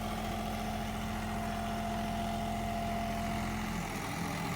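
John Deere tractor engine, a 5405 or 5210 model, running steadily at 1600 rpm with an 8-foot rotavator: a constant, droning diesel hum with a steady low throb, close and even throughout, no talk.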